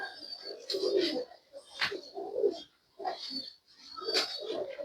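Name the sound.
pigeons cooing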